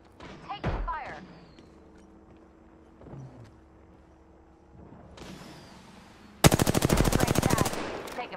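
Rapid automatic gunfire from a video game firefight bursts out near the end as a dense, loud rattling volley, preceded by scattered thumps, quieter game effects and low background sounds.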